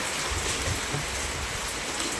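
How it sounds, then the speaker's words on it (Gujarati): Rain falls steadily in a constant, even hiss that neither builds nor fades, with no voices present. "વરસાદ ચાલુ હોય"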